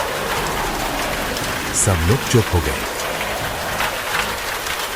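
Steady heavy rain pours over a village, a constant hiss of falling water with a voice speaking briefly over it midway.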